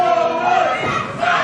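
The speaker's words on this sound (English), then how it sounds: "McChesney leading the cheering section" A wrestling crowd at an indie show yells and cheers steadily, a dense roar of many voices with a few louder shouts rising out of it.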